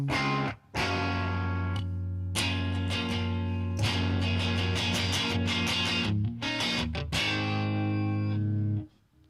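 A Jaguar electric guitar plays through heavy distortion, loud and close, with sustained chords and ringing notes filling most of the stretch before a short break near the start and a cutoff at the end.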